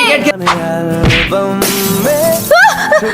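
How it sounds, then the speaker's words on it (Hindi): A window pane shatters after being hit by a cricket ball, a sharp crash with tinkling glass heard against a musical background and brief voices in a cartoon scene. "ये नालायकों ने मेरे घर का शीशा तोड़ दिया"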